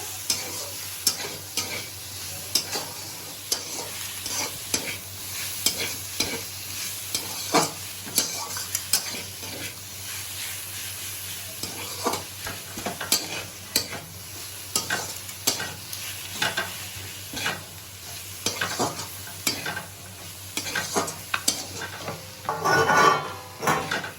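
Radish greens stir-fried in a pan, with a steady sizzle under repeated scraping and stirring strokes of a utensil against the metal, close and moderately loud throughout.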